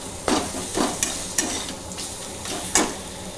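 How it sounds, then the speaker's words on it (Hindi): Garlic and ginger paste frying in a pan for egg curry, a steady sizzle broken by about six rhythmic scraping stirs of a spoon against the pan, close and clear with no talking. "एक चम्मच लहसुन और अदरक का पेस्ट ऐड कर देते हैं। इसे 1 मिनट के लिए भून लेते हैं।"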